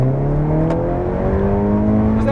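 A 2020 Ford Mustang under full-throttle acceleration from inside the cabin, its engine note climbing steadily and loud for the whole stretch with a rising harmonic drone.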